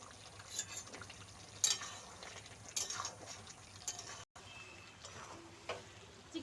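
Half-boiled potatoes stirred and fried together with chicken kosha in a pan, a faint sizzle under intermittent scrapes and clinks of a spoon against the pot, with no talking.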